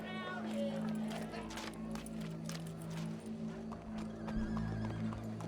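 A horse whinnies and trots with clip-clop hooves in the Western video game Red Dead Redemption 2, a loud neigh near the start over a busy crowd and steady music-like drone, with people talking.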